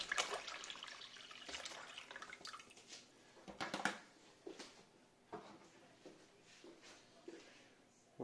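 A litre of water is poured into a container of solution for treating orchids, giving a faint, uneven trickle and splash over several seconds with small gaps and drips, quiet and close.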